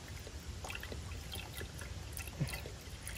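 Beef broth and water are poured into a Dutch oven at a forest campsite, a soft, quiet trickling and splashing stream of liquid with a small splash near the end.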